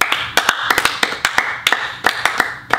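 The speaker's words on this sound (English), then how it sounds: "That's not something to clap about." Hands clap in short, sharp bursts close to the mic, falling into irregular quick runs of two to four claps with brief gaps between them, with no talk over them.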